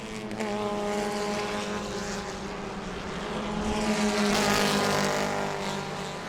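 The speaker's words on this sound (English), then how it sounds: "Boy, Eddie's car sounds so terrible." A loud race car engine drones steadily with harmonic whine, sounding rough, swelling as it passes close by, continuous throughout with no voices.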